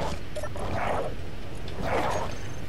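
Dogs in the Space Engineers game giving two short yipping barks about a second apart, moderately close, over a constant low background hum.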